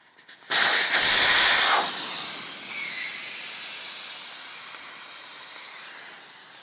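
Air bursts out of the tube in a KTM 790 Adventure R front tire once the valve core is removed. It is a loud, sudden hiss that stays strong for a second or so, then eases into a long, steady rush that fades toward the end.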